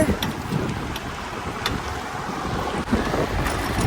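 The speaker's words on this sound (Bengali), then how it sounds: "এই বৃষ্টির মাঝে বের হয়েছি" Heavy rain pours onto a flooded street in Dammam, Saudi Arabia, a dense, unbroken roar and hiss with gusty wind buffeting close to the microphone.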